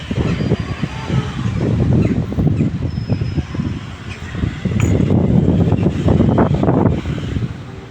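Strong gusting wind buffets the microphone in loud, rushing waves that swell and ease repeatedly, with no voices.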